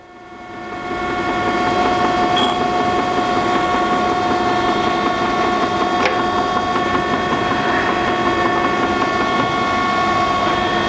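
Milling machine with its headstock spinning up and then the table feed engaging, a steady mechanical hum with sustained tonal whine that rises in the first two seconds and holds at a constant, fairly loud level.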